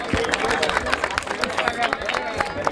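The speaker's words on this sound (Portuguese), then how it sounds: "Palmas pra essa batalha!" Crowd at a rap battle in Barueri, São Paulo, clapping and cheering steadily throughout, a dense continuous wash of hand claps mixed with crowd noise and voices.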